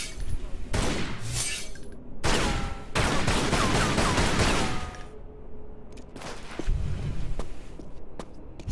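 Gunfire in the video game Tomb Raider Anniversary as objects are shot, with repeated bursts of sharp shots and shattering impacts, loud and dense, broken by short gaps with a few isolated cracks.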